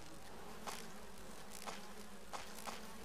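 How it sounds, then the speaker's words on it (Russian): A swarm of bees buzzes near a beehive in the Resident Evil Remake video game on GameCube: a faint, continuous drone with a few brief louder passes as insects fly by. "используем инсектицид и травим всех пчел там"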